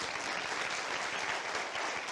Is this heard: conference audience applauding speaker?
yes